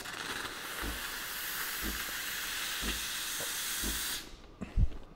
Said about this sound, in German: Testen wir jetzt die neue Dampflanze. Wie immer natürlich erstmal das Kondenswasser rauslassen.